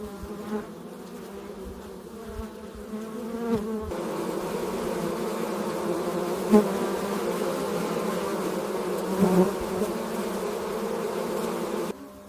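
Honey bees buzz steadily inside a hive, a dense, continuous hum that stays close and even throughout, with a few slightly louder swells and no voices.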